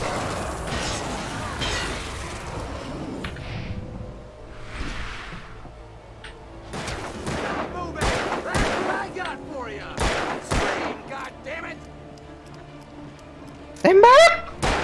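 Gunshots in the horror action game Alan Wake ring out as several sharp, scattered bursts, some close and loud, mixed with game effects while someone talks excitedly over them.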